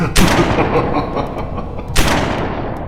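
Two loud, close gunshots in a dramatized reenactment, one near the start and one about two seconds later, each a sharp blast with a short decaying tail.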